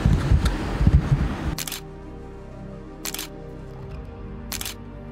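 A camera fires three sharp, evenly spaced shutter clicks on a suspension bridge at Hachimanyama Park in Tochigi at night, following a few seconds of close rustling handling noise.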